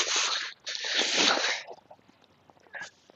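Footsteps crunch through fresh snow on the ground, two loud close bursts of crunching followed by quieter scattered steps and a short final crunch, with no talk.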